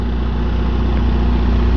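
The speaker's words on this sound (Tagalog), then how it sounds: "kung may naririnig kayong ng makina, generator po yun ng Queen Victoria" Steady, loud drone of the generator engine aboard the cruise ship Queen Victoria, a constant low rumble with no change in level over the short stretch.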